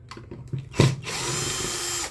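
An electric screwdriver removing screws from an Arno clothes iron gives a few light clicks and handling taps, then a steady close whirring motor run that holds for over a second.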